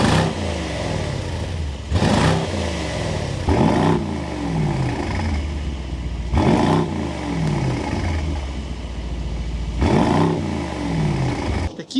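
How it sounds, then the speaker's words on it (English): A Mercedes-AMG GT63 Coupe's handcrafted bi-turbo V8 rumbles with a deep exhaust note, swelling in repeated blips every couple of seconds over a steady low idle, close and alone. "We need to go inside and start it up so you can hear that exhaust note."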